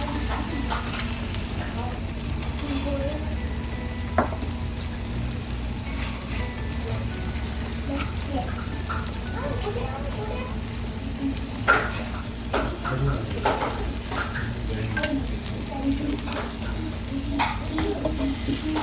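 A multi-layered radish masala paratha fries in ghee on a hot pan, sizzling steadily and fairly loudly throughout, with occasional light scrapes and taps and a person talking over it now and then.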